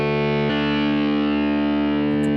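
Compressed, heavily distorted electric guitar produced in Logic Pro X, a single sustained chord ringing thick and saturated with a fresh pick attack halfway through, loud and steady throughout with no voices.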